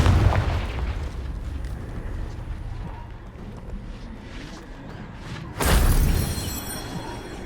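Confringo blasting spell exploding in Hogwarts Legacy, a quiet rumbling stretch of game ambience broken by a single sudden loud blast near 5.6 seconds that roars and trails off slowly.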